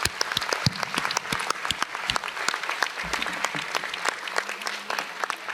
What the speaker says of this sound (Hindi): अपने लिए ताली बजाइएगा।